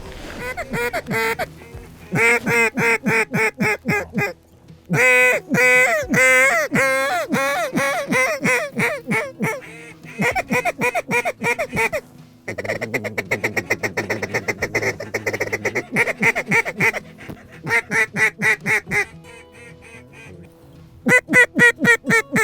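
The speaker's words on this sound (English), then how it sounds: "Just had first 2 Drake Mallards come in." Drake mallards quack repeatedly near decoys on a warm-water creek in Nebraska during a hunt, loud close bursts of nasal calls in irregular runs with brief pauses, some calls overlapping.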